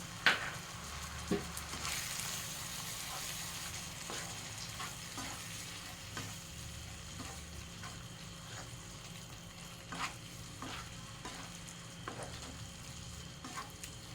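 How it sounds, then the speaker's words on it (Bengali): Spice masala with turmeric, salt and a little water sautéed in a pan for chicken curry, a steady close sizzle with scattered scrapes and taps of stirring, no voices. "অল্প পরিমাণ জল দিয়ে মশলাটাকে কষিয়ে নেব"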